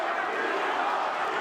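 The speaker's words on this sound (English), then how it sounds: "Those two punches got the crowd alive." Boxing arena crowd roaring after Bernard Hopkins lands punches against Sergey Kovalev in a light heavyweight title fight, a steady broad wall of crowd noise throughout the short moment.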